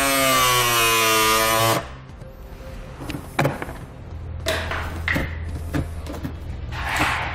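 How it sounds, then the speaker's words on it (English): A rotary tool whirs at high, steady pitch for nearly two seconds before cutting out, followed by scattered knocks, scrapes and plastic rattles while the plastic bumper fascia of a 2017 Subaru Outback Wagon is handled for a hitch installation. "I'm going to be using a rotary tool to make a quick, clean cut."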